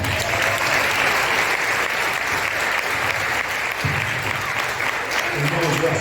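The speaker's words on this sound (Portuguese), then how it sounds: "Aplausos." Sustained applause from a church congregation, a dense even wash of clapping that fills the whole stretch without a break, with occasional low murmurs underneath.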